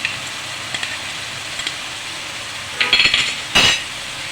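Masala cooked down with sour and sweet yogurt (curd) in a pan for egg korma: a steady sizzle of frying underneath, with a few light clinks and a couple of louder scraping stirs of the spoon near the end, no talk.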